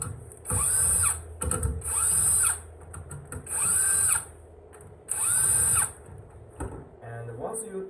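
A power drill fitted with a T25 bit backs out the bumper screws on a Floatwheel ADV2, running in four loud, steady bursts of about a second each, separated by short pauses filled with handling noise.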